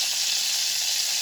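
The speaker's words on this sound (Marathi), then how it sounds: "त्यानंतर याच्यामध्ये ॲड करूया कढीपत्ता" Curry leaves hit hot oil while tempering for toor dal varan, giving a loud, steady, close sizzle and crackle that fills the whole moment with no voices.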